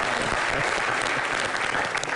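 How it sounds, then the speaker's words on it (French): A studio audience on a French-language comedy show claps loudly and continuously, a thick, unbroken wash of clapping throughout. "Mais applaudissez pour vous."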